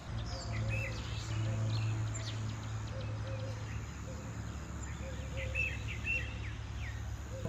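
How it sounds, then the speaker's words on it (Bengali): Birds chirp and call across a university campus in the morning, with scattered tweets over a steady hum of insects and distant background noise. "যেমন পাখির কিচিরমিচির শব্দ"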